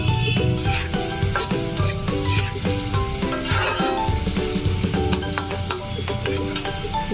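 Onions tipped into a hot pan after garlic has been lifted out hiss in a loud, continuous sizzle, with scattered stirring scrapes and light clinks of utensil on metal throughout.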